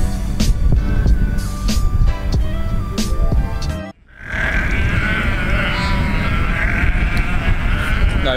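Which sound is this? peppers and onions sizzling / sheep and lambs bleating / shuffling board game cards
sheep and lambs bleating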